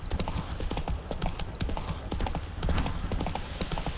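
Horse hooves clop in a rapid, steady rhythm in The Witcher 3: Blood and Wine, a continuous galloping patter of hoofbeats mixed with faint ambient game sound and no talk.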